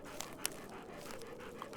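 Quick, rhythmic panting from dogs close by, with a few faint clicks and jingles over a low, steady background.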